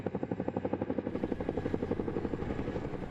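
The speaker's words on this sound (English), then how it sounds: "The powerful sound of helicopter rotors thumped against the front country of Santa Barbara and Montecito this morning." Helicopter rotors thump in a steady, rapid pulse over the Santa Barbara and Montecito front country during the Thomas Fire, a loud, close, continuous chop with no voices.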